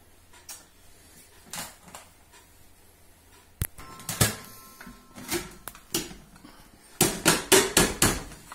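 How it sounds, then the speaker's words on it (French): A knife chops dehydrated morel mushrooms on a board, with a few scattered taps early on, then a quicker run of sharp, close knocks toward the end. "j'ai juste besoin de les hacher"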